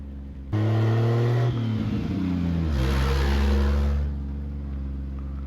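A 1940 Mercedes 320 barn-find car starts and drives under its own power, a loud, close engine rumble that rises as it revs and pulls away, then settles to a steadier idle.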